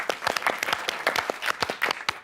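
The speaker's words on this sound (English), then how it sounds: "Can we give a round of applause to anyone who got that at home?" A studio audience on a TV quiz show claps warmly, many hands with individual sharp claps standing out in an uneven rhythm, close and lively with no talk over it.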